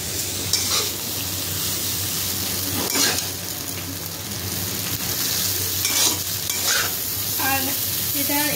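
Maggi noodles fry and sizzle in a pan with a steady crackle, as a utensil stirs and scrapes in brief bursts throughout.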